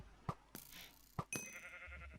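Sheep in the Minecraft video game give short bleats, a few quiet separate calls with soft game sounds and a brief chime between them.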